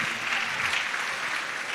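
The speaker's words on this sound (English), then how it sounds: "please applaud Dr. James Oponchecheku." An audience at the KNUST RP Baffour Memorial Lecture applauds in a steady, dense, even clatter of many hands, heard from within the hall for the whole stretch.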